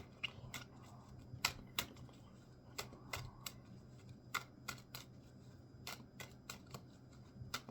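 Playing cards are shuffled repeatedly in a series of sharp riffling bursts and clicks, each followed by a pause, close and clear over a low steady background hum.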